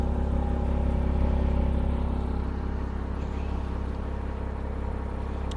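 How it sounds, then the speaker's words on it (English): Exhaust of a 2006 Porsche Boxster roadster idling steadily, a deep continuous rumble heard close up and alone, without revving, over about six seconds. "The exhaust sounds awesome"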